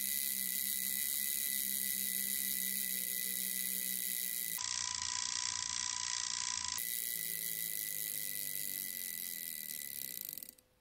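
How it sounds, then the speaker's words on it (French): Inside a Seiko Bell-Matic 4006-7 watch movement, the alarm hammer strikes rapidly, giving a continuous mechanical buzzing rattle that changes tone midway and fades out at the end. "on a un marteau pour la sonnerie qui vient frapper sur l'intérieur du mouvement"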